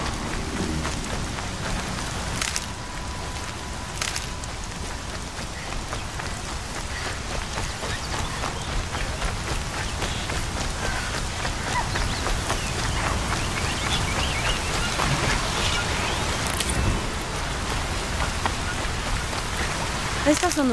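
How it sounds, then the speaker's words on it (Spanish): Steady heavy rain in Horizon Zero Dawn drums continuously on surfaces, a dense, even downpour that holds at the same loudness throughout, with a faint distant rumble at times. "La lluvia suena como si fuera un redoble de tambor."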